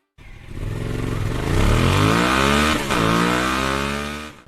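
A 2024 Suzuki V-Strom 1050DE adventure motorcycle's engine revs hard from idle, climbing in pitch, dipping briefly at a shift, then rising again, loud and close with no talk.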